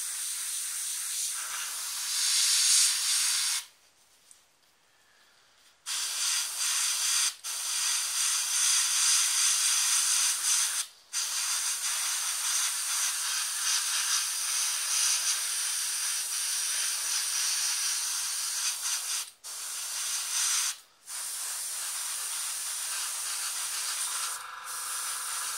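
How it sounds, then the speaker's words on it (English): An airbrush sprays Evil Sun Scarlet highlights onto a painted miniature, giving a steady close hiss of air and paint that runs in long bursts, broken by a few short pauses and one longer gap. "I'm going to go in there with some highlights of Evil Sun Scarlet. Again with the airbrush"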